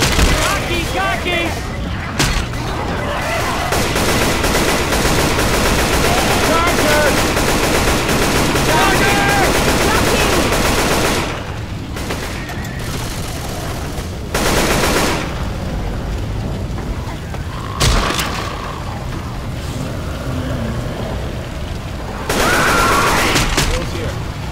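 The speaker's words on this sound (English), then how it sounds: "Throwing a pipe bomb!" Nearly continuous rapid gunfire in the zombie co-op shooter Left 4 Dead 2, heavy overlapping bursts with a few louder booms from a pipe bomb explosion, while players' voices talk throughout the chaos.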